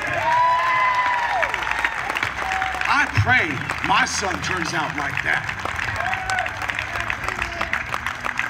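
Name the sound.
audience applause at a rally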